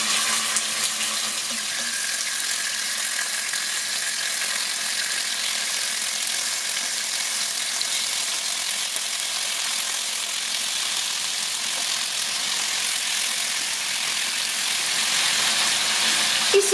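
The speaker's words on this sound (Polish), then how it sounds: "Tłuszcz mam rozgrzany i słuchajcie, będziemy smażyć." Pork shoulder frying in hot fat in a pan, a steady broadband sizzle that holds evenly for the whole stretch with no voices over it.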